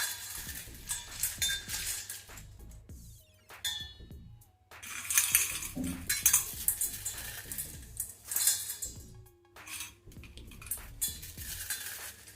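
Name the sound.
crispy snack mixture added to bowl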